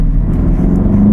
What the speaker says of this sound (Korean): 엑셀레이터 페달을 좀 밟기 시작하면은 있는 힘껏 엔진에서 출력을 막 쏟아내면서